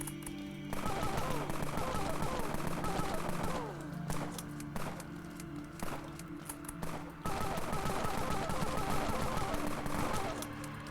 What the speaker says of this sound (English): we'll just kite around him, shooting him in the side like a goober